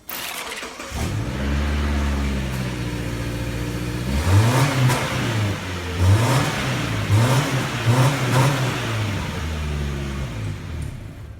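A car engine with its stock exhaust revs repeatedly, strong rising and falling harmonic sweeps in several bursts after an initial idle, loud and close with no talk.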